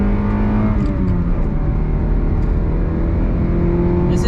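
A truck engine pulls hard in second gear, a loud, steady close-up drone with a faint rise in pitch and no voices.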